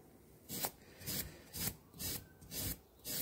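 Flat file rasping across the felt of a Petrof piano hammer, about six steady strokes in an even back-and-forth rhythm, close and fairly quiet with no talking.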